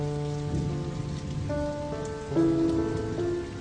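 A heavy, driving downpour hisses steadily under sustained orchestral music, the rain dense and continuous with no voices.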